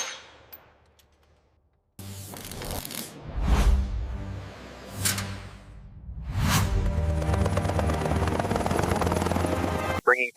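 An SA 315B Lama helicopter's engine and rotor spool up, a low rising roar with a few whooshing surges that settles into a steady, loud whirring drone before cutting off abruptly.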